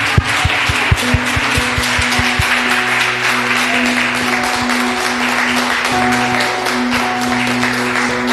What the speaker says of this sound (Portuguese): Palmas para o Senhor, igreja.